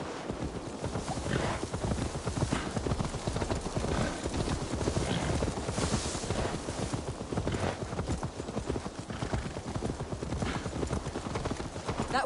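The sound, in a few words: horse hooves clip-clopping in video game Assassin's Creed Valhalla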